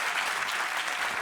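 Applause from a theatre-style audience, a steady dense wash of many hands clapping at even strength through the whole stretch, with no talking over it.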